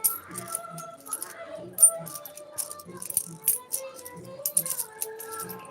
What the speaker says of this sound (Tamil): எந்த மாதிரி உள்ள காயின் இதெல்லாமே தனியாக தான் அடுக்குறாங்க